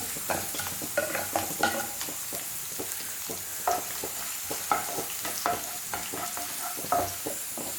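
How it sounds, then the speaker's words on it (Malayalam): Sliced onions sizzle in a pan as they are stirred, with soft repeated scraping strokes over a constant quiet frying hiss. "അപ്പോൾ ഇടയ്ക്ക് നമ്മുടെ ഈ പാനിലത്തെ ഉള്ളി ഒന്ന് ഇളക്കി കൊടുക്കാം"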